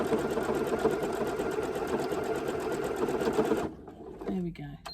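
A sewing machine runs fast and steadily as it stitches along a strip of lace on a crazy patchwork postcard, a close, even mechanical whir that stops near the end, followed by a voice speaking.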